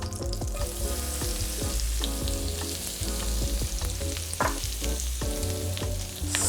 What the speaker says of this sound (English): I got my onions that I'm gonna add to the butter.